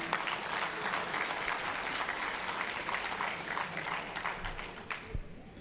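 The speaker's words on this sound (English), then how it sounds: "another round of applause for Mzee Lui Guizhen" Steady, dense applause from an audience at a business and trade forum, a continuous wash of many hands clapping at moderate volume that carries on throughout.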